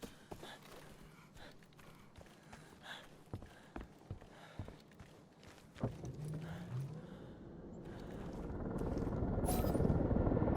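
A helicopter in Arena Breakout Infinite builds from a faint distant drone into a loud, close rotor roar over the final seconds, following scattered footsteps and movement noises.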